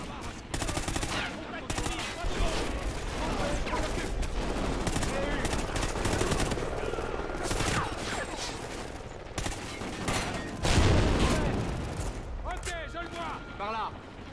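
Enemy gunfire in the first-person shooter Call of Duty: Ghosts crackles nearly nonstop in rapid machine-gun bursts and scattered shots, loud and close, mixed with shouting soldiers and spoken dialogue.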